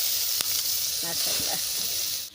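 Onions and spices sizzle in hot oil for a meat curry, a steady close hiss of frying that runs throughout, with a faint voice briefly in the background.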